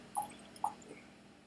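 Two soft, distinct drips of water land in a glass of Mortlach 12 whisky about half a second apart, followed by a fainter third, against a quiet background.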